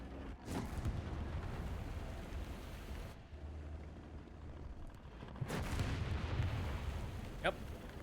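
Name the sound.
artillery fire in the video game Landships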